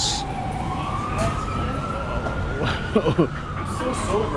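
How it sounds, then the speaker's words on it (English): A wailing emergency siren rises and holds over city traffic noise in Times Square, New York, fairly close, with a few sharp bursts near the end. "there are sirens every time when you walk"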